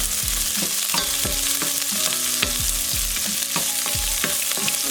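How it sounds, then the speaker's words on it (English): Half an onion frying over low heat in a pan for camarones a la diabla, a steady close sizzle with stirring scrapes running throughout, over a recurring low musical backdrop. "And we are going to throw our other half of the onion."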